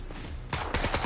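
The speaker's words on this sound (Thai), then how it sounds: "เฮ้ยมันยิงผมด้วยว่ะ" Gunfire in the video game Scum: a quiet lead-in, then a quick run of sharp, rapid automatic shots.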